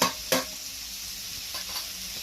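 Shrimp sizzles steadily in a pan while being stirred, with two sharp scraping strokes near the start and softer stirring later; the frying hiss stays constant and moderately close throughout.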